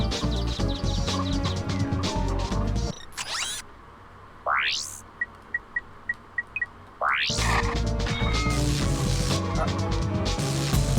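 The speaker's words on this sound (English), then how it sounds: "Why are there enemies shooting at the chickens?" Chickens cluck in a short run of quick, close clucks during Ratchet and Clank gameplay on PS3. Mechanical game noise, rising swooping effects and loud bursts surround the clucking.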